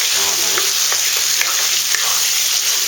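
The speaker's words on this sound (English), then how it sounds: "Right, that's sizzling away." Chicken sizzles steadily in a hot frying pan, a constant bright crackle with a few small pops, close up and without talking.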